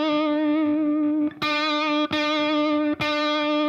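Distorted electric guitar note with vibrato wobbling far too fast, held loud and steady, followed by three sharp re-picked notes in a slow, even rhythm.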